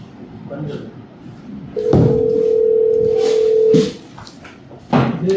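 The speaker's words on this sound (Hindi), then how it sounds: "यहाँ सबको फोन बजा है, सॉरी" A phone goes off during a podcast recording, a sustained electronic tone lasting about two seconds with clicks at its start and end, close by, with people speaking in the room.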